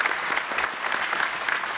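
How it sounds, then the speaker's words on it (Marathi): An audience at a kirtan gathering breaks into dense, steady applause, many hands clapping together at full strength for the whole short stretch with no voices over it. "एकदा यांच्यासाठी टाळ्या वाजवा तरुणांसाठी."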